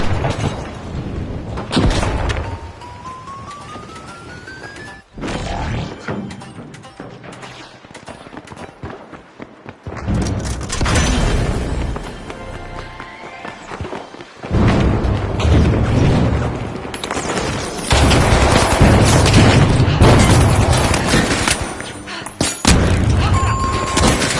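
A frag grenade goes off in a video game played on PS5. Heavy booms and thuds strike again and again over a dense, loud game soundscape of gunfire-like bursts and rumble.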